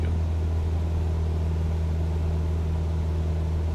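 A small aircraft engine in Microsoft Flight Simulator, throttled back to cruise power, drones as a steady, even hum with a low rumble and constant tone throughout, close and loud with no talk.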